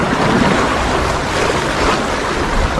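Waves slap against a small wooden fishing boat (vanchi) out on choppy sea water, a steady broadband wash with wind buffeting the microphone throughout.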